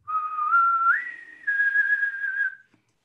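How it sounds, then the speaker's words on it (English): A person whistles a clear, high-pitched tone in two sustained phrases, rising in pitch partway through the first, then holding steady and fading out, alone and close. "try and whistle now, that high-pitched whistle"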